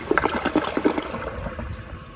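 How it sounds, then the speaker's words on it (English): A black 2023 Kohler Cimarron Revolution 360 toilet flushes with a rushing swirl of water that gurgles at first, then settles into a steady drain and trickle, close by with no talking. "here is another flush"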